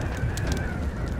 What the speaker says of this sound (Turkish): Kuşlar.